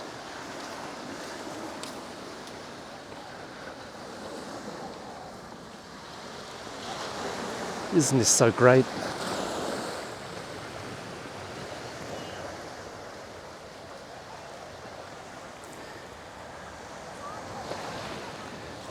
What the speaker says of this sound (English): You can actually hear the waves,